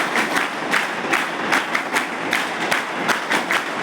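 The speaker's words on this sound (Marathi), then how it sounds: "नंदूभाऊसाठी टाळ्या वाजवा" A hostel crowd claps in a steady rhythmic beat for Nandubhau, each collective clap landing as a loud, even pulse, with no voices heard.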